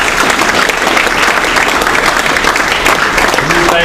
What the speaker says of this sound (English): Let's give Brother Brandon 3X another round of applause.